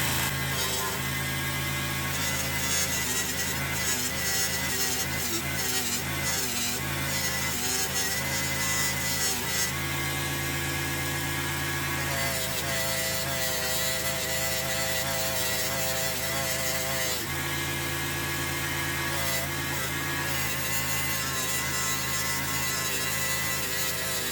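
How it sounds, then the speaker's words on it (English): Buffing wheel polishing an amethyst and garnet inlay ring, a loud continuous motor whine with rubbing and grinding texture as the ring is pressed against the spinning wheel. "I'm going to take it over to the buffing wheel now"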